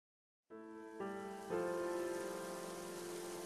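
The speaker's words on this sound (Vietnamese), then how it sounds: "Mưa như đổ nước thế kia, đi đứng gì?" Heavy pouring rain in a cartoon folk tale, a dense steady wash that begins abruptly and thickens in stages, loud and continuous with layered tonal hum beneath.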